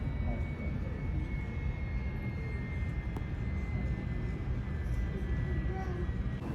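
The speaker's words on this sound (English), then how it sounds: "We think that this might be our plane" An airliner taxiing in at an airport gives a steady, moderately distant jet engine drone and whine that holds through the whole stretch, with a faint background voice.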